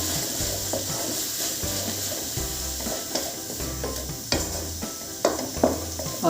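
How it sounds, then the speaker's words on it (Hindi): Chopped tomatoes are stirred into rai saag cooking in a pan. A spoon scrapes and clatters in an irregular rhythm over a steady sizzle, close and moderately loud. "2 टमाटरों को चॉप कर लिया है, इसे भी मैं अच्छे से मिक्स कर दूंगी।"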